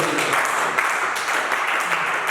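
A church congregation applauding Jesus, a dense, loud and continuous wash of clapping from a large crowd with no break.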